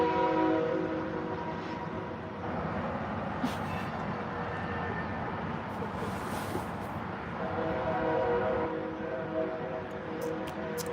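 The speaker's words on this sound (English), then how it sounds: "It took that train. That's a long train." Long train passing nearby, a steady low rumble and rattle of rolling cars lasting throughout, with a sustained horn-like tone in places.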